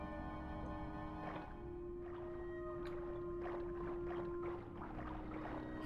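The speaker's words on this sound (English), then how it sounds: "You can hear a whale song in the background." Faint whale song drifts through the background of the Grim Fandango game, a long sustained tonal moan over steady watery ambience, accompanied by soft scattered clicks and low rumbling.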